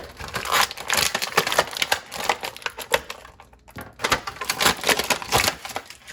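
Toy figure accessories being pulled from plastic packaging, producing bursts of crinkling and crackling plastic in uneven handling rhythms, close up, with a brief pause midway and no talk.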